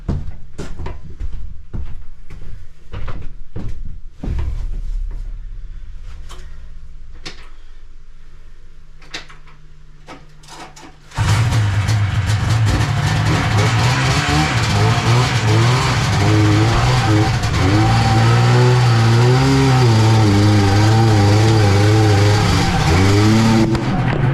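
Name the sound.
1972 Ski-Doo TNT snowmobile driven up onto trailer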